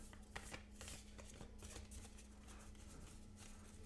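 Board game cards for Hexplore It: The Valley of the Dead King being shuffled close up, a soft continuous riffling and flicking with a few light taps, faint and alone.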